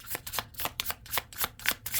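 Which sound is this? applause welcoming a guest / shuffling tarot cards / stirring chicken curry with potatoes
shuffling tarot cards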